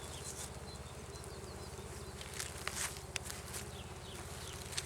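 Bees return from the fields to a Japanese-style hive, with a dense, continuous buzzing drone close by and individual insects zipping past now and then.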